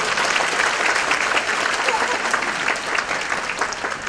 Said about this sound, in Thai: เราปรบมือเป็นเกียรติได้เพราะเรายกย่องเขา